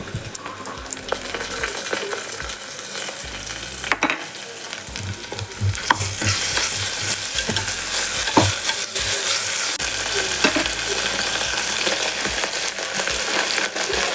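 Onion, green chillies and ginger-garlic paste sauté in a pan for mushroom biryani, with a steady sizzle and repeated scraping stirs of a spoon, growing louder and fuller halfway through; no voices.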